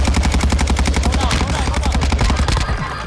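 Rapid bursts of automatic gunfire rattle in a video game shooting battle, a dense, loud, evenly spaced stream of shots that cuts off near the end.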